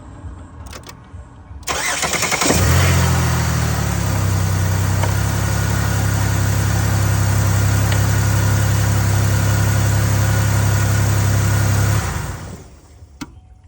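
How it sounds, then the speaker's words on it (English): A 3.9L Chevy Venture engine, just fitted with a new starter, cranks briefly and catches, then settles into a steady, loud, close idle for about ten seconds before shutting off. "So the car started right up."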